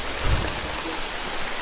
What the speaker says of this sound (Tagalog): Ulan na ulan talaga bro.